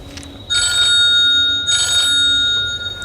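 A telephone rings in two separate bursts of electronic trilling, each about a second long, close and loud, in a quiet room, with no talking.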